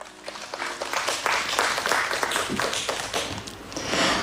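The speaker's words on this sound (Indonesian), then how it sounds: "Boleh kita iringi dengan tepuk tangan?" Dense, steady applause from an audience at a public election debate for a regional head, filling the room throughout and swelling slightly at the end, with no speech over it.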